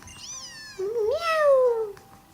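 Cry of Litten, the fire cat Pokémon, in the video game Pokémon Sun: a single clear, close synthesized meow that bends upward then slides down, preceded by a short chirpy tonal flourish, loud and alone.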